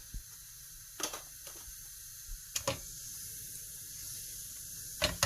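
Cumin seeds (jeera) sizzle in a heated pan with a steady hiss, broken by a few sharp crackling pops from splattering oil, close and fairly loud, with no voices.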